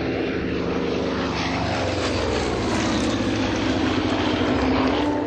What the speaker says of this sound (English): My heart stopped every time those airplanes go by.